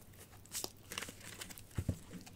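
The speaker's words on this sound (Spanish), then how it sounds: "Voy a barajar" A deck of tarot cards is shuffled close up: quiet, quick papery riffles and soft flicks in short bursts, with no voices.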